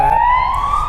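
A police car siren on a street in Odesa, Ukraine, loud and close, a single rising wail sustained through the whole moment.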